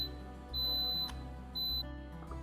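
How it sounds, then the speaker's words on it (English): An Instant Pot gives two short, high electronic beeps as it starts, clear and close against a quiet room. "it's gonna beep and start working"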